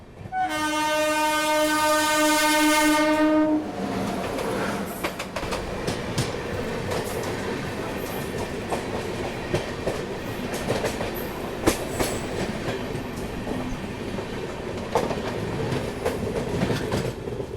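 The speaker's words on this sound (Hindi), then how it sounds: "सामने से आ रही है भागलपुर दिल्ली विक्रमशिला एक्सप्रेस" The Bhagalpur-Delhi Vikramshila Express passing in India: a loud horn blast for a few seconds, then the continuous rumble and rhythmic clatter of coaches rolling by close at hand.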